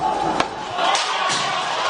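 Angry protest crowd clashing with riot police amid tear gas, a dense continuous roar of many voices with shouts rising and falling, close and loud throughout.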